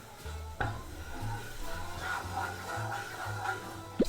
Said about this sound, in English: add in the flour to create a roux